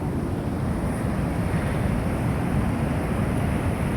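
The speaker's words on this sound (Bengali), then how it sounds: "অনেক বড় বড় ঢেউ আসছে বন্ধুরা।" Big Atlantic Ocean waves break on a shore in Portugal, a constant, heavy roar of surf mixed with wind rumble and no voices.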